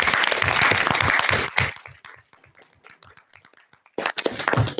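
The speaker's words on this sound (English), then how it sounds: "So I just would like to give Mel a big round of applause for being an amazing host." A big round of applause breaks out in the room at a university board of regents meeting, dense clapping from many hands that thins to scattered claps before swelling again.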